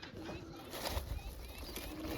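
Soft pigeon cooing drifts in faintly from a distance over a quiet outdoor background hiss.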